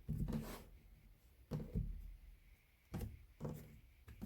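A deck of cards being cut by hand for a daily card reading, giving soft papery rubs and light taps in three or four separate bursts, quiet and close, with no voices.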